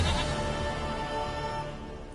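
A goat in the video game Witcher 3 gives one drawn-out, wavering bleat, close and clear, with no talk over it.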